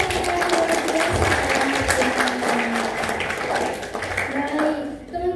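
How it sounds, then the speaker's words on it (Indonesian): Audience applause at a green finance event, moderate clapping running under a host's voice through most of the stretch before fading. "Teman-teman boleh dong tepuk tangan untuk acara kita yang luar biasa"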